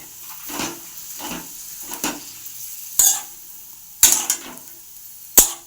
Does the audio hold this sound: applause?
no